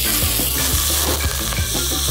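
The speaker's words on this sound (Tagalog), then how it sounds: "Tapos, gisa natin yung bawang sibuyas at luya natin." Garlic, onion and ginger sauté in hot oil in a pot, giving a loud, steady sizzle and crackle with a few soft stirring scrapes throughout.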